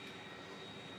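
Plane flying in the factory-building game Factorio, a steady, even jet-like engine drone with broad hiss, holding at a constant level throughout with no talk.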